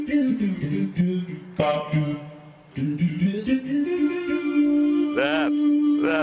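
A synthesizer's human-voice patch sings wordless vocal-like tones in a short melodic phrase, with sustained harmonic notes and a held, wavering final tone, fairly loud and without talk.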